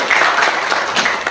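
Brief burst of audience clapping at a football club name and logo launch event, fairly loud and continuous, with a faint voice briefly audible underneath.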